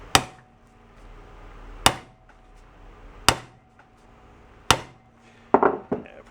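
Sharp metallic hammer blows strike the engine case of a 1972 Honda SL125 motorcycle: four evenly spaced loud hits about 1.4 seconds apart, then a quick cluster of lighter taps, close by, with no voices.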